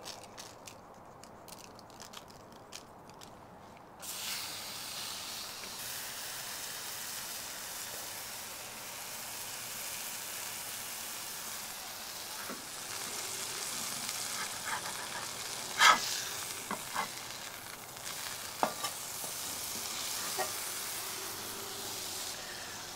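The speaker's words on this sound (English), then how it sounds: "So now it's time to get that burger on." A burger patty seasoned with kosher salt hits a hot cooking surface, starting with a sudden sizzle that settles into a steady loud hiss, with occasional crackles and pops scattered through it.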